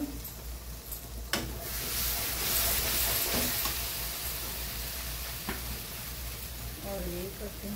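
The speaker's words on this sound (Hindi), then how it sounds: "मसालों को अच्छी तरह से भून लेंगे अच्छे से" Onions and spices sautéing in a pan for paneer masala, giving a soft continuous sizzle with a few sharp clatters of stirring, and a voice briefly heard near the end.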